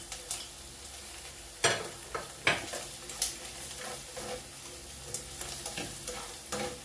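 Button mushrooms frying in a pan with spam, a soft sizzle under repeated scraping stirs and light clinks of a utensil against the pan, close and fairly quiet.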